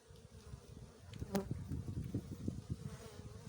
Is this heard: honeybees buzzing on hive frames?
yes